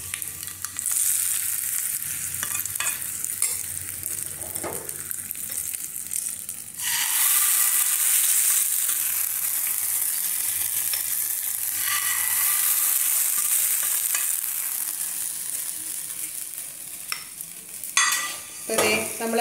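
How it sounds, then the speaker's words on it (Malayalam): Mustard seeds pop and sizzle in hot oil for a tempering, then the mix is stirred into Ramayyan curry. Loud, close frying crackle with scraping stirs, and a sharper burst of sizzle partway through. "ദേ കടുക് പൊട്ടിട്ടോ. അപ്പം നമുക്ക് നമ്മളെ രാമയ്യൻ കറിയിലേക്ക് ചേർക്കാം."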